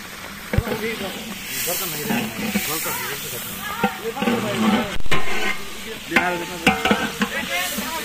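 Food is stirred in a cooking pot that has begun to stick on one side, scraping and sizzling steadily under several voices talking, with a few sharp knocks of the utensil against the pot.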